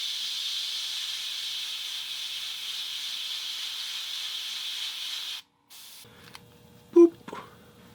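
White spray paint hisses onto a Jeep part in a steady, close, continuous burst that stops abruptly, followed by a few faint handling clicks and a short voice.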